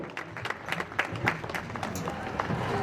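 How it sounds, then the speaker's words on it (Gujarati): An audience at a public stage poetry recital claps steadily in dense, continuous applause, a crowd-sized wash of hand claps filling the space throughout. "એક જોરદાર તાળીઓથી આપણે એપ્રિશિએટ કરીએ"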